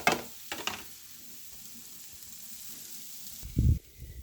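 Egg roll filling cooks in a pan with a soft steady sizzle, a few scraping stirs at the start and a louder clunk near the end, no voices heard.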